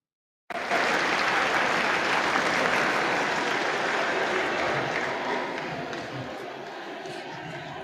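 Sustained applause fills the House of Representatives chamber, a dense wash of many hands clapping that starts abruptly and stays loud before easing slightly toward the end, with crowd murmur mixed in.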